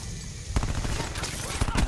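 Call of Duty: Black Ops 4 gunfire: a sudden loud burst of rapid shots followed by further sporadic cracks, close and dense over the game's background noise.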